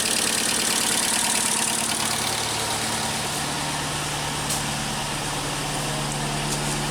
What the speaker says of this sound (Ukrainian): працює всі 4 циліндри